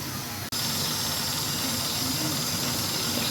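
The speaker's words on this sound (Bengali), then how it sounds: "ঝোলগুলো ফুটে গিয়েছে। এখন মাছগুলো দিয়ে দেবো। এখন 2-3 মিনিট ঢেকে রাখবো।" A covered pot of rui fish curry with tomato simmering on the stove, giving a steady close hiss of bubbling and steam that runs throughout, broken only by a brief dropout near the start.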